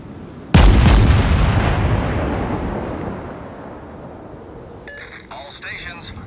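Naval artillery fire in World of Warships from the heavy cruiser Furutaka: one loud, close broadside boom that rolls off slowly over several seconds, followed by faint radio-like chatter near the end.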